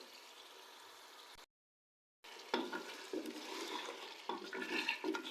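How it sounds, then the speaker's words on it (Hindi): Pressure cooker releasing steam after cooking korma meat, a steady hiss that cuts out briefly, then returns louder with gurgling bursts and sputters, close by with no talking. "अब हम इसका प्रेशर रिलीज करके आपको दिखाते हैं।"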